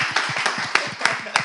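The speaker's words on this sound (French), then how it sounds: "on applaudit Valérie" A small group applauds a woman named Valérie with loose, uneven clapping, a few sharper claps standing out in a short burst, with murmured voices underneath.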